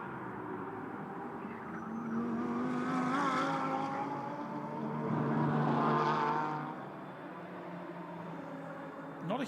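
GT race cars from the SRO GT Cup lap the Beijing E-Town circuit, their engines droning and rising as they pass at a distance, with faint commentary underneath.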